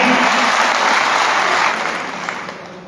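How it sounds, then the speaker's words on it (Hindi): Loud, dense applause from a large crowd at an annual convention of a tent, caterer and decorator association, sustained and full before tapering off at the end. "इसके लिए जोरदार तालियां"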